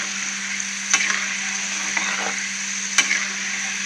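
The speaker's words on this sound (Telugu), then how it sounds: "పప్పు అంతా ఆయిల్ నుంచి పైకి తేలిపోయింది." Lentils deep-frying in hot oil give a steady, close sizzle with a broad hiss, broken by two sharp clinks of a utensil stirring in the pan; no one speaks.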